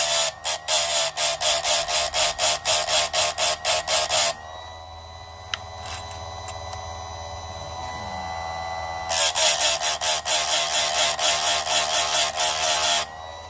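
A small chainsaw chain grinder sharpens a chain in two loud, close bursts of rapid rhythmic grinding strokes, separated by a quieter stretch of motor hum and faint clicks as the chain is repositioned.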